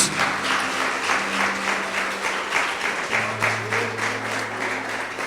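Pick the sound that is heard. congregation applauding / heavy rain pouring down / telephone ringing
congregation applauding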